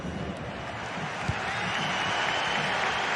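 A stadium crowd in a football video game, a broad steady roar of cheering and applause that swells slightly toward the end, with a single thud partway through.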